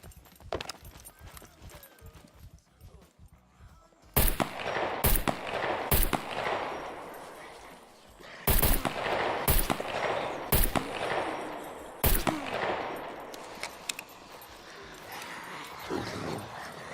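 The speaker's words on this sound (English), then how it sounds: "Ready to fire a gun?" Gunfire in the survival video game Scum: a handful of sharp, loud single shots, some spaced apart and some in quick pairs, each trailing a long reverberant echo across open terrain, with quiet gaps between them.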